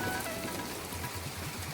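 Heavy, unceasing rain in a cartoon, with lightning, falls as a dense, steady hiss of drops on surfaces, moderately loud throughout.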